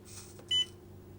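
An RC transmitter for an HPI Racing Venture 18 crawler gives a single short, clean electronic beep when dual rate hits 50%, quiet against a low steady hum.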